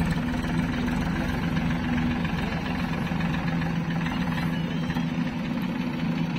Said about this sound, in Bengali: Diesel engine.